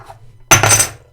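A plastic Star Wars action figure, one of a fake and real pair, dropped onto a hard surface gives a single sharp clattering knock that rings briefly and fades, loud and close, with no talk.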